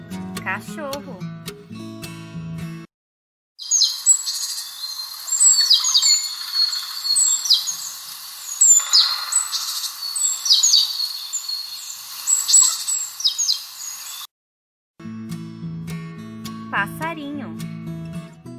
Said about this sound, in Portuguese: Passarinho.